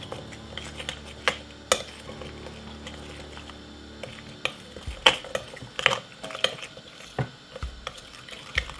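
A spoon stirs curry powder into a salad of curry leaves, with scattered light clinks and scrapes against the bowl at an uneven pace, close and fairly quiet.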